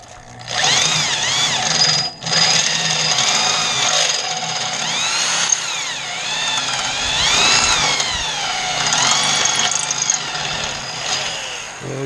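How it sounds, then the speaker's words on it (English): A fat step drill bores through the metal of a Jaguar MKII front subframe, giving a loud, sustained high whine that wavers in pitch as the cutter bites, with one brief pause early on. "let me try one of my fatter step drills"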